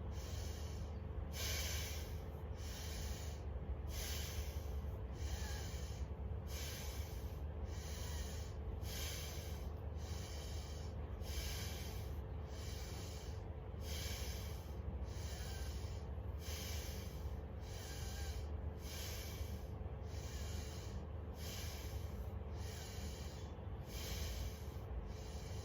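Power breathing exercise: forceful rhythmic breaths repeat steadily, roughly every second, as sharp nasal snort-like exhalations over a constant low hum, continuing alone with no talking.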